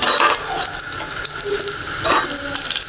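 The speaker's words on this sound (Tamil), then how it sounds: "இதில் கடுகு ஆட் பண்ணியிருக்கோம் கடுகு வந்து நல்லா பொரிஞ்சிட்ருக்கு" Mustard seeds splutter in hot oil in a pan, making a dense, loud, continuous crackling hiss with scattered sharper pops throughout.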